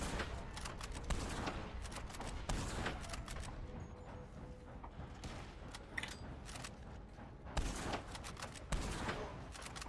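Scattered gunfire in the Red Dead Redemption 2 Online game: repeated sharp shots and bursts, some near and some farther off, continuing steadily across a busy, noisy fight.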